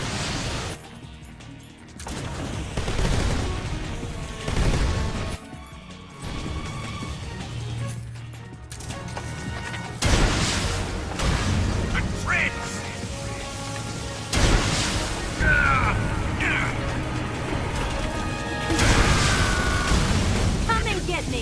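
Missile blasts, booming impacts and bursts of gunfire in Metal Gear Solid Delta: Snake Eater, dense and continuous with loud hits recurring over roughly twenty seconds, layered under game music and effects.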